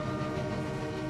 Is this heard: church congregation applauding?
no